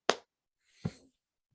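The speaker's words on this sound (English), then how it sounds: "So I'm gonna clap and then we'll" Two single sharp hand claps, close and dry, about three quarters of a second apart in a quiet indoor room.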